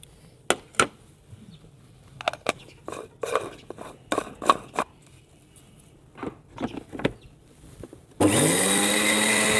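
An electric spice grinder powdering black cumin seeds. After a stretch of scattered light clicks and taps, it starts abruptly near the end with a loud, steady, high whirring roar.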